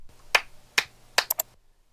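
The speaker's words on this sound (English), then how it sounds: "we basically indicated those places by clapping 3 times where we need to go on our timeline to correct" Three sharp hand claps spaced about half a second apart mark an edit point in an audiobook recording, followed by two quicker, thinner snaps, then silence.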